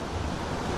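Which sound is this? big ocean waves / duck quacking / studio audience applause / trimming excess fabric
big ocean waves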